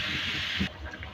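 Water pours into a fish curry in a pot, a soft steady hissing gush up close that stops abruptly partway through.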